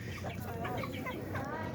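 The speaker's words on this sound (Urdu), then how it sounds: "ڈانسنگ مرغا." Rooster clucking in short repeated bursts, close and fairly loud over steady low background noise on a goat farm.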